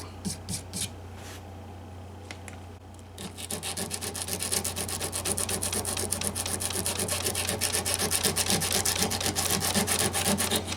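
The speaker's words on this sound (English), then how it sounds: "There's a bunch of whites, milky white, waxy looking stuff scraping." A tool scrapes waxy residue off the wood of a Gibson guitar's truss rod channel in a steady, rapid, close rasping run after a few short scrapes at the start; brief speech is heard early.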